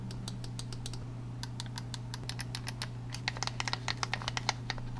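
Crisp microswitch face buttons on Hyperion 3 Joy-Con controllers for the Switch 2, clicked in quick, irregular bursts of sharp, close taps over a low steady hum, growing busier and louder toward the end.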